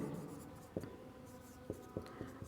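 Someone writes out a Class 9 maths equation in a quiet room. The strokes are soft and faint, with a handful of sharp taps spaced irregularly over a low background hiss.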